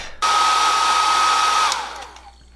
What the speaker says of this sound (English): let me grab the hair dryer real quick